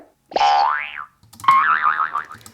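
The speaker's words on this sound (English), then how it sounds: "So this is from Hanna-Barbera cartoon sound effects." A Hanna-Barbera cartoon boing sound effect, as sampled in The Prodigy's 'Out of Space', plays twice in a row, each a loud, close springy twang with a wobbling, bending pitch and no talk.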